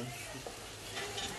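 Garlic sautéing in a pan gives a steady, close sizzle with light stirring scrapes, unbroken through the short stretch and with no talk over it.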